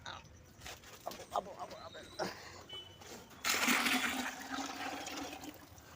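A few soft clanks and bits of speech, then a close, loud gush of water being poured for a cow, splashing steadily and tapering slightly.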